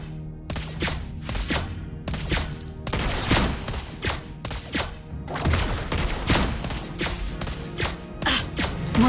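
Gunfire in a mobile shooting video game, dense loud volleys of rapid automatic shots and thuds continuing almost without pause, heard close with game effects mixed in.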